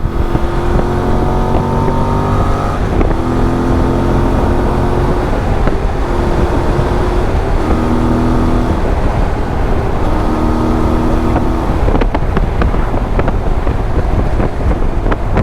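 A 2026 Voge DS800X Rally motorcycle rides at speed of about 120 km/h. Its engine drones steadily with shifting tonal whines under heavy, constant wind roar, loud throughout.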